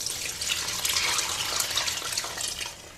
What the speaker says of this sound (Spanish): Le vamos a meter 4 tazas de ese caldo de carne tibio